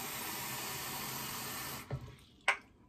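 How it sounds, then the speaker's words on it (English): A tap runs steadily into a lather shaving mug to soak a two-band badger shaving brush, a continuous close hiss that cuts off near the end, followed by a couple of small knocks. "I'm going to soak it in my lather shaving mug."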